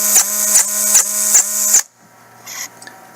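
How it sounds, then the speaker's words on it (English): A bill acceptor motor runs with a steady whirring buzz broken by four regular popping beats as its gear skips a tooth, then cuts out to near silence with a few faint clicks. "as you can hear with that popping type noise"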